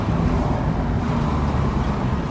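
A car driving slowly through town gives off a steady, fairly loud low engine rumble mixed with broadband road noise, continuous and unbroken with no voices.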